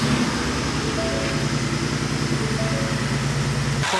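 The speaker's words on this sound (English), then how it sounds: "let's try to start the car now and see if it's still vibrating" A 2019 Ford F-150 Raptor engine idling steadily with a low, even hum and engine drone that cuts off abruptly near the end; no starter crank is evident.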